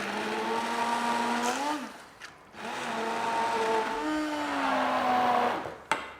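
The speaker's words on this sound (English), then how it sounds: "just using a stick blender or a regular KitchenAid or any type of blender," A stick blender blitzes leftover vegetable soup, a loud, steady motor whine whose pitch dips and rises as the load shifts, with a brief pause in the middle and no talking.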